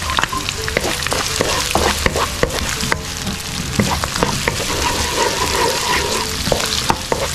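Garlic, with ginger, frying in a pan of canned food, a steady sizzle broken by frequent scraping stirs, close and loud with no one talking.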